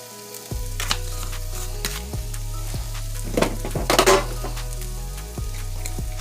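Onion powder, garlic powder, black pepper and cumin toasting in a pan for vegan chili mac and cheese, a steady close sizzle with a low hum beneath, broken by a few sharp scrapes and clinks of a utensil against the pan.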